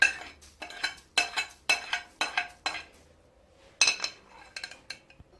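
Spices with cardamom, cinnamon, bay leaves and salt being stirred in a cooking pot for chicken akhni, heard as a series of close metallic scrapes and clinks of a spoon against the pot, ending with a softer clatter.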